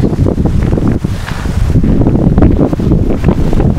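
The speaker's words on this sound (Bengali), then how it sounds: "দেখুন আপনারা এই জঙ্গলি ঘাসের আওয়াজগুলো আর হাওয়ার আওয়াজগুলো আপনারা বুঝতেই পারছেন।" Steady wind gusts sweep through wild grass on an open hillside near Tapang Green Lake in Odisha, a loud, continuous rushing roar with heavy buffeting on the microphone and no voices.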